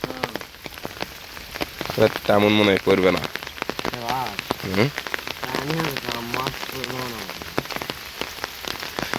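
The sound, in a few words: heavy rain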